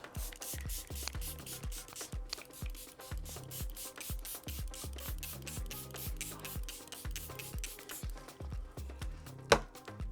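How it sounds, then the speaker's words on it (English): Charlotte Tilbury Flawless Setting Spray is pumped over and over onto a face, a rapid string of short, close hissing spritzes in a steady rhythm with no talking. "Charlotte Tilbury Flawless Setting Spray, and I drench my face in this"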